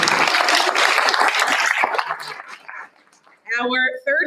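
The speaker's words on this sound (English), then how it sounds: "Round of applause for Donnie." Dense applause from an audience at a school board meeting fills the first few seconds, then thins out and fades, with a voice speaking briefly near the end.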